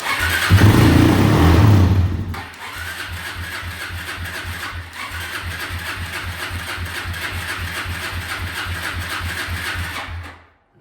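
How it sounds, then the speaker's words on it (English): A Kawasaki KFX400 ATV engine runs on brake cleaner, roaring loudly for about two seconds before settling into a steady, rapid, uneven putter that continues close by until it cuts out. "I think the brake clean's the only thing keeping it running."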